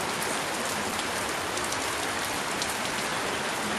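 Steady rain falls on surfaces at an outdoor school year-end celebration at a town hall, a dense, even hiss of drops that stays constant throughout with no voices.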